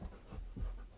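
A dog pants close by, quick rhythmic breaths under low-level room noise in an indoor setting where makeup is being applied.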